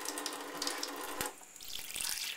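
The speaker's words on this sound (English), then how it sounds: "just fill it up with cold water" Cold tap water runs into a container for lemonade, a close, steady stream with a brief dip and a sharp knock midway before the flow resumes.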